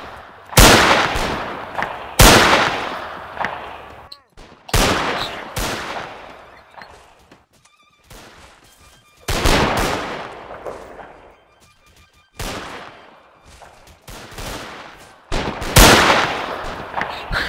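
Massed rifle volleys from ranks of soldiers in a Zulu Wars mod game, loud, sharp, near cracks fired in clusters at uneven intervals, each followed by a long rolling echo, with quieter pauses in between.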